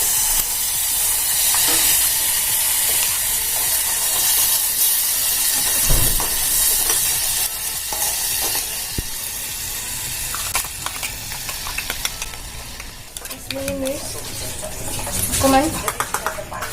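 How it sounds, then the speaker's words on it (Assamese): Spice paste frying in hot ghee and being stirred, a steady hissing sizzle with occasional scraping knocks, gradually easing, and a few brief sharp clinks near the end. "ঘিউ দিলো অলপমান ঘিউ দিয়াৰ পিছত এই পেষ্টখিনি ঢালি দিম"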